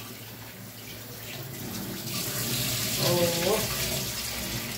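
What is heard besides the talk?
tap water running while washing vegetables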